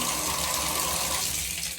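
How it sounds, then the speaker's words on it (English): Water runs steadily through a TubShroom Ultra hair catcher seated in a bathtub drain, producing a continuous close rushing and trickling sound that stays even throughout. "So the water is still flowing"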